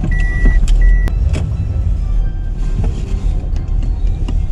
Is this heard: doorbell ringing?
no